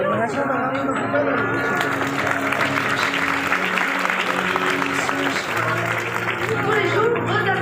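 Audience applause fills the room, steady and dense throughout, with voices and music-like tones running underneath.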